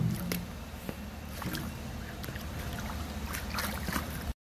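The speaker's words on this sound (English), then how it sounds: "Rinse my muddy boots off." Water splashes and gurgles as muddy boots are rinsed outdoors, a steady close wash with scattered splashy bursts and no talking.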